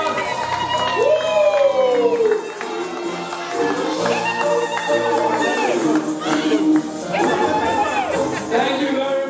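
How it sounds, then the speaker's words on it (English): A party crowd at a 30th birthday celebration and brand launch cheers and whoops loudly, with voices shouting over continuous crowd noise in a lively, close, busy room. "Give her a round of applause!"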